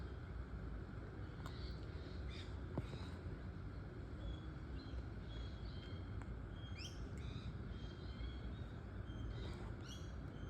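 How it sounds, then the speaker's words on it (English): Birds calling outdoors, faint scattered chirps and short tweets spread across the clip over a soft, steady background hiss, with no talking. "All the birds definitely coming out now."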